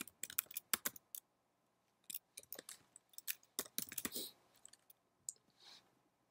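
Quiet, close typing on a computer keyboard while a Fortran program is written, with quick bursts of key clicks separated by short pauses and no talking.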